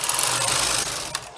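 A double-bed knitting machine carriage slides across to knit a row, giving a loud, continuous whirring rasp up close that lasts about a second before stopping.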